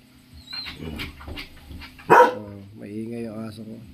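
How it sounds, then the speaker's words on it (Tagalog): A pet dog barks several times nearby, short sharp yaps mixed with someone talking over them, beside a Ford Ranger XL pickup. "Maingay yung aso ko."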